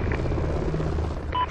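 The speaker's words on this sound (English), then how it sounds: "Friendly chopper inbound." A helicopter in the video game Call of Duty: Ghosts, a steady rotor and engine drone with low thumping that fills the clip, with a short electronic tone near the end.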